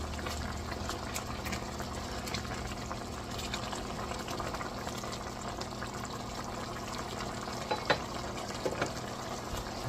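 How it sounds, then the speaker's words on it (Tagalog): Water boiling in a cooking pot over an outdoor fire, a steady close bubbling and hissing wash that runs evenly throughout, with a couple of faint knocks near the end. "Ayan, kumukulo na."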